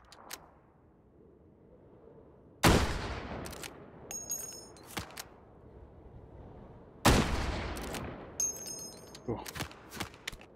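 Gunfire in the HTC Vive VR shooting game Hot Dogs, Horseshoes & Hand Grenades: two loud broadband shots about four seconds apart, each trailing off with echoing decay, followed by sharp metallic clicks and smaller pops, over a quiet low hum.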